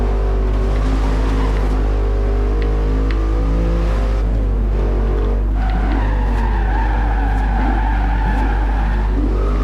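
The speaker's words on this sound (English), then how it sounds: "kind of set that into a slide deliberately to see if it would stop in time" A 2015 Lexus RC F in Forza Horizon 2 slides under hard braking, tyres squealing in a long, wavering screech over a steady engine drone, loud and close throughout.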